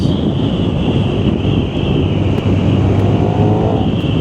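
A KTM Super Duke 1390 R Evo motorcycle accelerates hard in 4th gear, its engine a loud, continuous roar under heavy wind buffeting on the microphone while riding.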